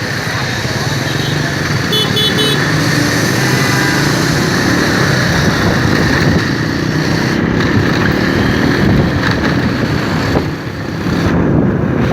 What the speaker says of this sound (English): Pretty windy. I bet you can hear that.